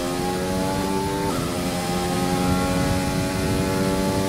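A Formula 1 race car engine roars steadily in the F1 2020 racing game, loud and continuous with a sustained tonal whine that shifts pitch once as the revs change.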